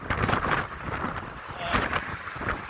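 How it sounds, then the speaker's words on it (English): Wind whips and buffets a microphone on top of a bridge during a bicycle ride at Fort Myers Beach, a steady roaring rumble that swells and dips in gusts throughout. "Alright, so the wind is like whipping around."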